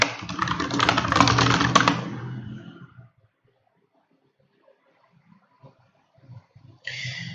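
Keywords typed on a computer keyboard, a fast run of close, crisp key clicks for about three seconds, then quiet with a few faint taps.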